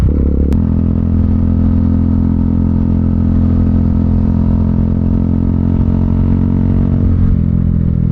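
A motorcycle cruises along an open road, its engine droning loudly and steadily close to the mic, with low rumble and clatter and a slight easing of the engine near the end. No voices are heard.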